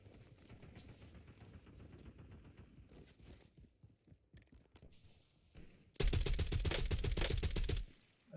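Gunfire in Call of Duty Warzone, with rapid bursts of shots and clattering action through the first part, then a loud, dense sustained barrage near the end that cuts off abruptly.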